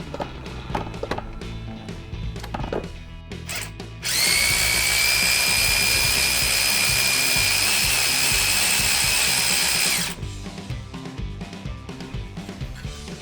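A power tool drives against the power steering pump bolts for a long, loud, steady burst of about six seconds, with shorter clanks and handling noises before and after in a workshop.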